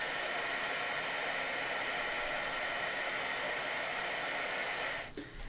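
A heat gun blows a steady, loud whooshing roar to melt embossing powder over a Nuvo mousse watercolor surface, the broadband hiss continuous for about five seconds before briefly dipping as the tool is switched off or moved.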